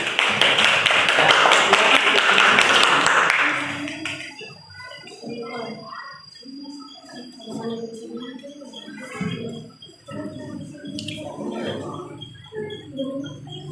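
Classroom students clap hands together in a burst of dense, loud applause lasting about three seconds, then fade out as children's voices and chatter continue in the room.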